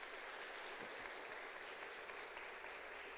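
A church congregation claps together in steady, dense applause that carries evenly at moderate volume for a few seconds, with no voices rising above it.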